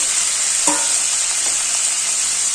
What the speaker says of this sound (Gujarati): અને તેને ઘીમાં સાતળી લઈશું